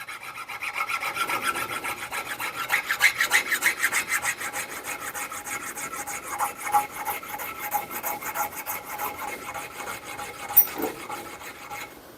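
Wooden handle for a house axe being sanded with 180 grit sandpaper, a steady rhythmic rasping of close back-and-forth strokes that continues unbroken and fairly loud, with no talking.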